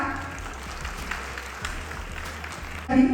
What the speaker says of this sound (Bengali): আবার একটু করতালি হয়ে যাক